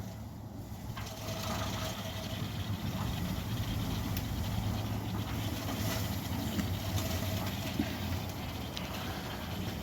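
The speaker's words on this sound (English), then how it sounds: "let's quickly test our Centurion D5 Evo sliding gate motor." A Centurion D5 Evo sliding gate motor runs steadily on a heavy steel sliding gate, a continuous mechanical hum and whir at moderate level with no talking.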